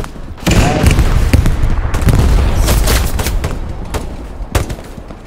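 Dense gunfire in the World War II shooter Hell Let Loose, with rapid overlapping shots and bursts close by. Sharp cracks and booms fill the stretch, and faint shouting sits underneath.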